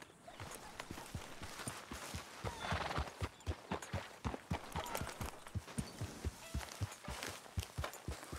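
Steady rhythmic clip-clop of horse hooves walking through a camp in Red Dead Redemption 2, fairly close and continuous, with faint ambient game sounds behind.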